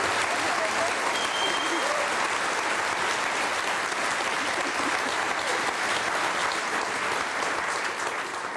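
Studio audience in a German TV talk show applauding, a dense steady wash of clapping that holds at even loudness throughout, with no clear speech on top.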